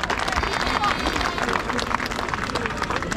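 Crowd at an austerity protest on Paris's Place de la Bourse applauding as a speaker is introduced, a dense steady wash of clapping mixed with crowd murmur, moderately distant and even throughout.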